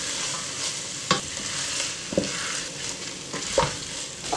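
Dried beans are stirred in a hot pot during cooking, giving a few soft scraping strokes over a steady sizzle.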